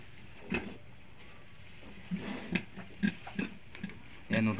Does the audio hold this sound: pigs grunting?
yes